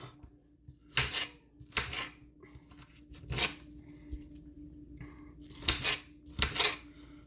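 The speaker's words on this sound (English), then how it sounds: "1 medium onion diced finely" Sharp knife chopping a medium onion finely on a board, a few crisp bursts of dicing with pauses between, close and clear with no talk.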